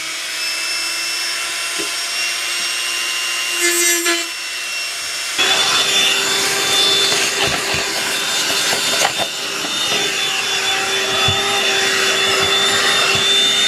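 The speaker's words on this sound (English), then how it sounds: "I keep this little guy handy, and what I have, this used to be the house vac" Small shop vacuum, formerly a house vacuum, sucking up carbon fiber dust during a motorcycle fairing repair: a faint motor hum at first, then a louder roaring suction with scraping rubs for most of the stretch.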